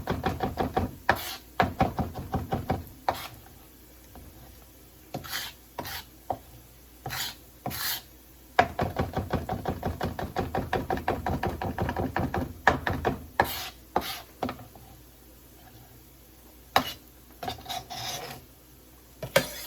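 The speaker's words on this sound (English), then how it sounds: "take your knife and kind of rub the back of the knife back and forth so you get everything off of it" The back of a knife scrapes chopped vegetables for a vegetable curry off a cutting board, giving repeated rasping back-and-forth strokes in bursts with brief pauses, close up, with no talking.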